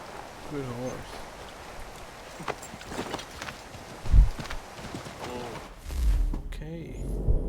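Horse hooves clip-clop in Assassin's Creed III, a few short bursts of hoof steps at moderate level amid game ambience and background noise, with a voice speaking briefly in between.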